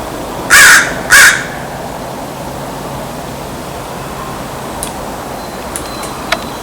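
A crow caws twice in quick succession, loud and close, over steady outdoor ambience at Yaquina Bay, followed by a few faint distant chirps.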